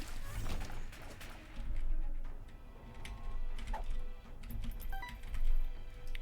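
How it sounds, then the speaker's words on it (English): Computer keyboard keys clack in irregular bursts close to the mic, a scattering of sharp taps and thumps with short pauses between runs of typing. "Can you hear the keyboard very loud, by the way?"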